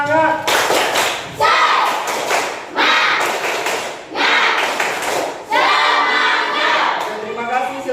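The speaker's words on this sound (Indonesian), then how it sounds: "Sekali lagi tepuk semangat" Classroom of Indonesian pupils performing the 'tepuk semangat' clapping chant, loud bursts of group clapping and chanting in about four rhythmic rounds, close and energetic with voices mixed in.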